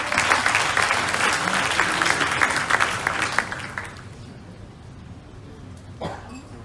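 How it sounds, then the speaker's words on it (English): An audience at a startup demo day in Hong Kong claps loudly for about four seconds, then the applause fades away to quiet room noise. "Let's give him a round of applause."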